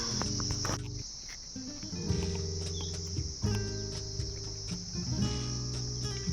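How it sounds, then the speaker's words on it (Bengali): Crickets near Downhill School in Sittong, Darjeeling, give a steady, high, continuous trill, with faint scattered outdoor sounds beneath and no talking. "কোনো ঝিঝি পোকার আওয়াজ ছাড়া কোনো আওয়াজ নেই জায়গাটায়"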